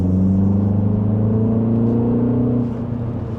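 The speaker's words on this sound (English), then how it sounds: "Definitely a zippy little car, that's for sure, with a mild acceleration." A 2025 Mini Cooper S Hardtop 4 Door accelerates on a test drive, its engine hum climbing steadily in pitch under a low road rumble heard from inside the cabin, then easing off slightly at the end.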